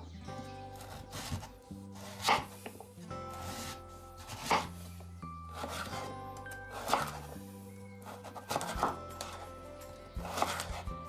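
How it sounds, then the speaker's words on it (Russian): A knife chops peeled celery root into sticks, a series of distinct thuds on a board at an uneven pace, close and fairly quiet with soft background music underneath. "Очищенный корень сельдерея нарезаю на брусочки."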